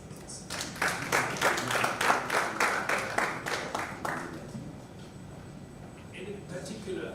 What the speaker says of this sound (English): so I ask you for a short applause